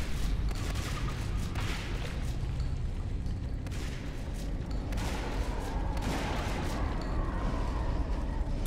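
ARC artillery fire in the video game Natural Selection 2: repeated heavy booms and rumbling blasts roll on continuously, with dense gunfire-like crackle and a steady loud, noisy backdrop throughout.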